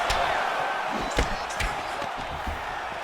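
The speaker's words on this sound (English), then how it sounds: "you hear the crowd react every time they come together" A video game crowd in a simulated UFC fight roars steadily, with sharp punch thuds and short swells of cheering coming through at irregular moments.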